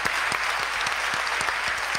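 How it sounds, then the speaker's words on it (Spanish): Church congregation breaking into applause, a loud dense patter of many hands with a few sharper individual claps standing out, continuous for the whole moment. "vamos a darle un aplauso"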